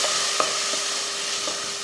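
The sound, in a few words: stirring rasam powder and spices frying in oil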